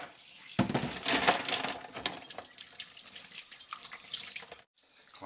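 Sandy clams are rinsed under a running tap in a sink, with water splashing and gushing, shells clattering now and then, and a brief pause near the end before the flow resumes.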